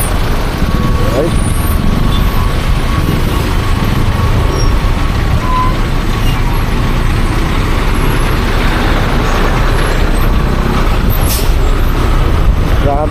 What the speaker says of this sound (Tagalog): Grabe talaga yung traffic.